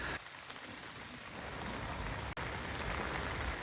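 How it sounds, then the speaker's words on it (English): Heavy storm rain pours steadily onto tents during a wind and rain trial, a dense, continuous hiss of drops pattering on fabric with no voices. "in the pouring rain."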